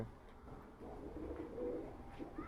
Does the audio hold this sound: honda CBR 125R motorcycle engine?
no